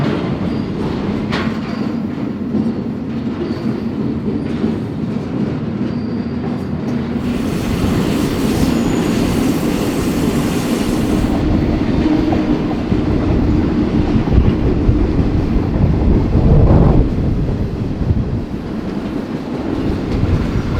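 Freight train rolling through Mexico, heard from aboard: loud, continuous rumble with clickety-clack of wheels and a brief metallic squeal, steady and close with no voices.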